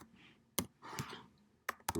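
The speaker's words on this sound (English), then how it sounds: "I'm just doing shift and arrow keys." Computer keyboard keys pressed while entering numbers, shift and arrow keys, giving a few sharp separate clicks with short pauses between them and faint background noise.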